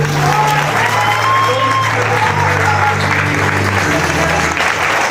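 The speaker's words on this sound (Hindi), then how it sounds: "एक बार तालियां हो सकती है अपने पेरेंट्स के लिए" A seminar crowd claps for their parents, giving dense, loud applause mixed with some cheering and scattered voices, lasting the full five seconds without letting up.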